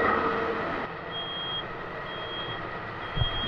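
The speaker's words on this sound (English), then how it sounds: "It's beeping at me because I was out of the seat with the PTO running." Repeated high electronic warning beeps from a John Deere front mower, triggered by the seat being empty with the PTO running, sound in evenly spaced bursts over a steady engine drone, with a brief low thump near the end.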